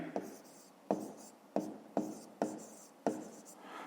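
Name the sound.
writing by hand on paper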